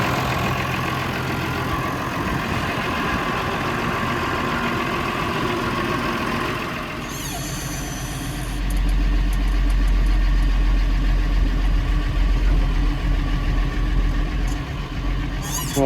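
Massey Ferguson 135 tractor engine running close by, idling steadily and then revved up to a louder, deeper sustained drone partway through.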